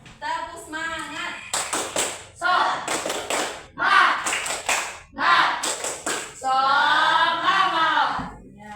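A classroom of Indonesian pupils performs a rhythmic clap chant, sharp bursts of unison clapping in short patterned groups alternating with children's chanted voices, loud and close.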